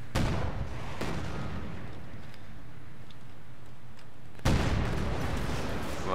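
Artillery fire in the Company of Heroes 2 winter campaign of Operation Barbarossa: a heavy blast opens the sequence, a second follows about a second later, then a low rumbling decay, and another loud boom lands near the end.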